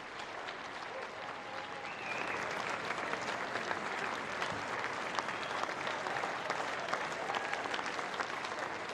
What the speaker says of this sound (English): The crowd certainly appreciating some good quality tennis